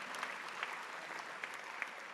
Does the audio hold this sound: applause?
yes